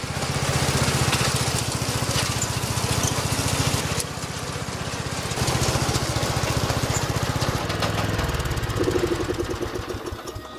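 A lawn mower engine runs steadily at close range while mowing a yard, a loud, continuous chugging drone with a slight shift in pitch and load near the end and no talking.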